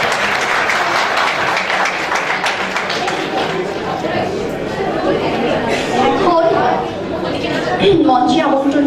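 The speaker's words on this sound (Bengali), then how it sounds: "সবাই করতালির মাধ্যমে তাকে স্বাগতম জানায়।" An audience at a university Victory Day event claps steadily to welcome a guest, a loud sustained round of applause mixed with crowd chatter that swells slightly near the end.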